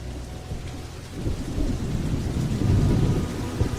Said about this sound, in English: it started raining like hell